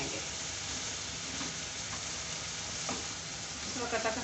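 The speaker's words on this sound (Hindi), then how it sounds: "चिकन हमारा फ्राई होता रहेगा।" Chicken frying in a covered pot for malai korma, a steady close sizzle and crackle running throughout with occasional stirring noises.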